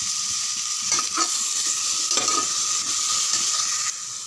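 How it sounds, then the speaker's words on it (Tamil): Radish pieces sizzle steadily as they are sautéed and stirred in a pan, with a spoon scraping and turning them at intervals, close and fairly loud, with no talking. "இங்கே பாருங்கள், வதங்கும் போது நல்லாயிருக்கும்"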